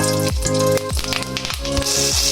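Whole garam masala spices hit hot mustard oil in a kadai for a mutton curry, giving a loud, steady, close sizzle under a tonal, musical-sounding layer.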